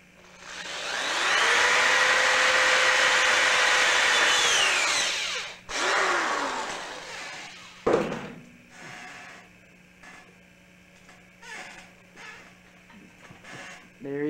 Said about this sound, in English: you want to take your 1/18 drill bit and you want to drill the hole in the bottom